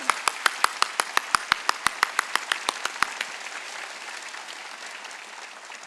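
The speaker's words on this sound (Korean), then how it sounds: "박수 치려면 세게 좀 쳐. 세게." A church congregation claps in unison during a worship service, sharp regular beats at first that loosen into scattered, continuous applause.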